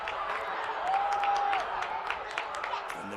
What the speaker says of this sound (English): the Manti bench is up clapping and hollering there